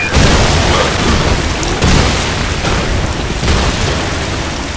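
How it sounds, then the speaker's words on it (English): Acid rain pours down in a co-op shooter video game, a dense continuous hiss of falling water with a few dull thumps mixed in, loud and steady throughout. "It's raining now."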